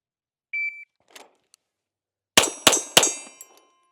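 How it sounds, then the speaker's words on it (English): Rounds from a Colt 727 carbine ringing off a steel target at an outdoor range: three sharp metallic clangs in quick succession, each with a bright ringing tail, after a short electronic beep and faint clicks. "Let's see how we do on this steel target here."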